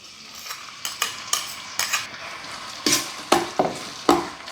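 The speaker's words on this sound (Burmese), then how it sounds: "စီပူလာပြီဆိုရင်တော့ကြက်သွန်ဖြူနီထောင်းသားသားလေးထည့်ပါမယ်" Pounded garlic and shallots frying in hot oil in a pan for a fish dish, a steady close sizzle broken by about nine brisk stirring scrapes, coming faster toward the end.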